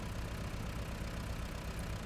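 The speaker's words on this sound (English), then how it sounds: "Good amount of revs out of it there." A truck engine in the Snowrunner video game, set in Scandinavia, drones at a steady, loud, continuous pitch with low rumble and no breaks or talk.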